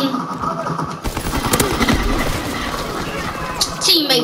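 Rapid gunfire from a sniping video game, bursts of shots crackling over dense game noise with a voice talking over it.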